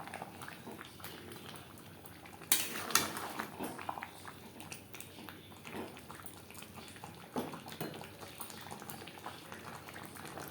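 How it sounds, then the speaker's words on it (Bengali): Chicken and fried potatoes being stirred together in a pan for an aloo chicken curry, with soft scraping and bubbling and a louder clatter of stirring partway through, at close range. "চিকেনের সাথে আলু বেশ ভালো করে মিক্সড করে দেবো"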